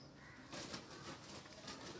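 A Jogi pigeon coos close by in two or three soft, throaty rolling bursts over a faint background hiss, after a brief quiet start.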